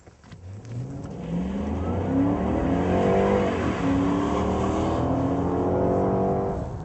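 A Pontiac G8 driven hard on a closed track with stability control off, its engine revving and climbing steadily through the gears, loud and close, with a brief dip as it shifts before the pitch rises again.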